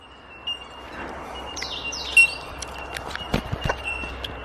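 Birds chirp and call intermittently around a bush campsite in Australia, short bright tweets near and far over a quiet outdoor background, with a few soft rustles or steps.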